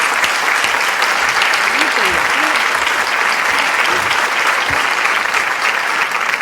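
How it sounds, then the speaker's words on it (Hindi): Loud, dense applause from an audience at a Hindi comic poetry gathering, steady clapping filling the whole clip, with a voice heard faintly under it. "एक बार तालियां बजाकर आदेश दीजिए"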